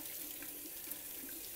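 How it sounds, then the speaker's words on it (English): Tap water runs steadily into a sink over a hard-boiled egg being peeled, a soft continuous splashing hiss at low level with no voices. "the pressure of that water getting underneath the shell just pulls that shell right off of the egg"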